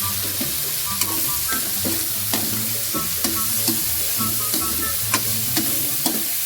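Broccoli and ground pork sauté in a small pan, a continuous sizzle broken by regular scraping clacks of the spatula stirring against the pan.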